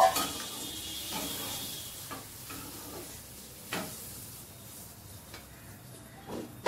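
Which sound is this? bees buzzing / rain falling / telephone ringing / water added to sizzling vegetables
water added to sizzling vegetables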